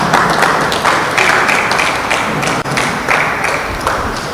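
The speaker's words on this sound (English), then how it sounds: "Another round of applause to our president." Applause for a president at a BAOSA 98 master class, loud and close, with individual claps standing out in an uneven, pulsing rhythm.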